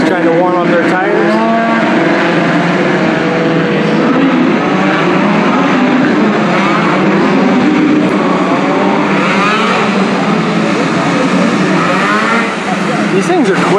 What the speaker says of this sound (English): All the guys trying to warm up their tires.